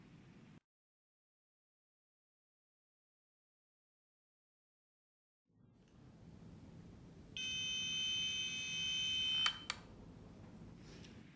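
A smart medicine box sounds its reminder alarm, a loud, steady electronic beeping tone that starts after a silent gap and background noise, then cuts off sharply.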